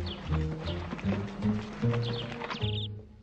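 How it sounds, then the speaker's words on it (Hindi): A horse moves at a gallop with rhythmic hoof beats and tonal, whinny-like calls. The sound is moderately loud and continuous, then thins out near the end. "चल मेरे घोड़े।"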